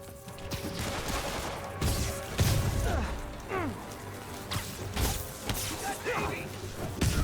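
Gunfire and crashing impacts in the Spider-Man video game come as scattered bursts and thuds mixed with whooshes, with game voices talking throughout.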